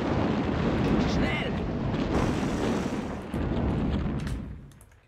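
Artillery barrages and explosions in the World War II strategy game Sudden Strike, a dense rumbling roar of booms and blasts that stays loud and continuous before fading near the end, with a voice talking over it.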